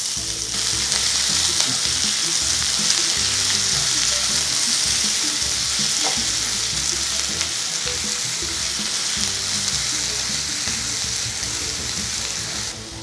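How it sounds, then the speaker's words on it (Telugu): Sliced onion frying in hot oil with mustard seeds, cumin and chana dal for a potato side dish: a loud, continuous sizzle with faint stirring, steady throughout. "ఉల్లిపాయని కొంచెం సేపు వేగనివ్వాలి. ట్రాన్స్పరెంట్ అయ్యే వరకు వేయించుకోవాలి."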